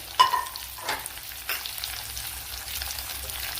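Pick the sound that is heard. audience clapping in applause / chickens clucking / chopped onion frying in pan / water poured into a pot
chopped onion frying in pan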